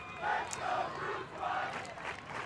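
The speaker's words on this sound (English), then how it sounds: "The crowd really into it." A crowd at a women's ultimate frisbee game in Boston roars and cheers in swelling waves of mid-distance voices, rising and falling over a couple of seconds.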